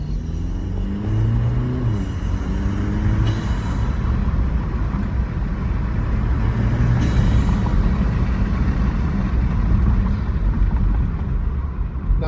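A 2016–2019 Porsche Macan base 2.0 turbo four-cylinder with its charge pipe silencer plugged, held at quarter throttle, giving a steady low engine drone with rising harmonic tones early on, continuous and close throughout.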